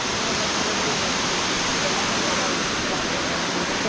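A steady, loud roar of falling water fills the whole clip without a break, like standing close to a waterfall.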